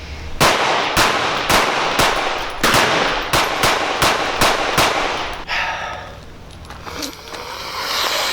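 A Smith & Wesson M&P .22 Magnum pistol fires about ten sharp, loud shots in quick succession, each cracking close and evenly spaced, followed by a quieter stretch with faint outdoor noise and a couple of distant pops.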